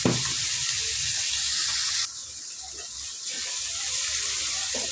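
Onions with rock salt sautéing in a pan for dried-fish thokku, a loud, steady close sizzle that briefly drops in level, then continues with faint stirring scrapes.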